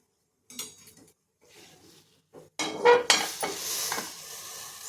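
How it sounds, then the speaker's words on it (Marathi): A cooking pot being swapped for a bigger one while making rasmalai, with scattered soft clatter, then from about 2.5 s a louder rush of pot and utensil handling with metallic clinks and scraping, close and without speech. "मी त्याचं भांडं जरा बदलून घेते"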